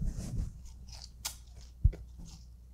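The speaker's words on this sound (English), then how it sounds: "Double bite of squid." Someone bites into fried squid karaage and chews, a crisp crunch followed by soft mouth sounds and one sharp crackle, close and quiet with no talking.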